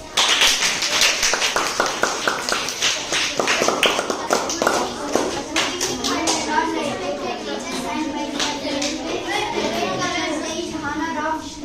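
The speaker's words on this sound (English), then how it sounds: "Give her a big round of applause." Clapping at a school Teachers Day celebration in India, a dense patter of hands starting loud and close, then thinning as children's chatter and speech carry on over it.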